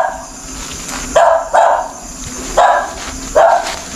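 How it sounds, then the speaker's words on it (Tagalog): A dog at a cemetery barks four times in sharp, loud bursts spaced about a second apart, close by over a quiet background. "May aso."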